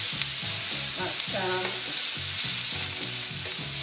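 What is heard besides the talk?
onions and pulled pork frying in a pan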